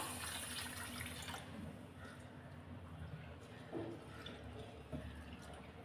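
Water pours from a tap for a second or so onto rice being soaked for appam batter, then a quieter trickle and splashing follow at a low, close level.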